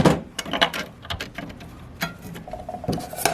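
Raybestos GPZ clutch friction discs and steel plates are stacked by hand into a 46RE transmission clutch pack, giving a series of light metallic clicks and taps, close and without talk.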